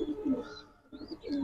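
Pigeons at a breeder's loft give soft, close cooing calls in short repeated bursts with a brief pause in the middle, no talking over them.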